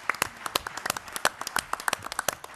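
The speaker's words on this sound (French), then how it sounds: "avec quelques applaudissements pour le soutenir" A seated audience gives a short burst of applause at a political session, with scattered, fairly sparse claps that rise and fall irregularly over a couple of seconds, moderately distant.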